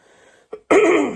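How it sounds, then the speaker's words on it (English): A single throat clearing up close: a short catch, a brief pause, then a longer rough, rasping clear, with no talking. "I need to clear my throat"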